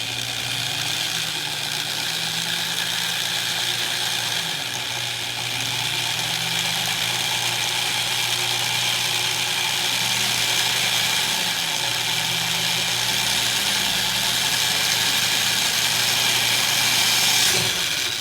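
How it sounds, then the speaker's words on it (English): A power drill whirs continuously for a long stretch, boring a half-inch hole for a Can-Am Spyder RT cargo kit, a steady close mechanical drone with slight shifts in pitch as it cuts through material. "drill a 1/2 inch hole"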